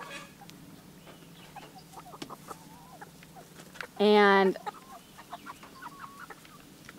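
Barred rooster and chickens in a coop, with one loud, clear crow-like call of about half a second standing out over faint background clucks and brief talk.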